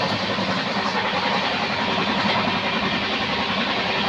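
A Nagercoil Express train stands at Tirunelveli station, giving a steady, loud rumble and hiss of an idling locomotive and carriages with no clear voices over it.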